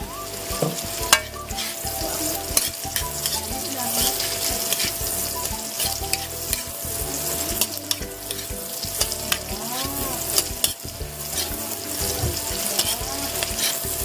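Garlic and onion frying in a pan, a dense close sizzle with frequent scraping and clinking stirs, some watery bubbling underneath, and no talking.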